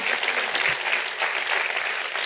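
Church congregation clapping during a service, a full, even burst of applause from the gathered worshippers lasting the whole moment without pause.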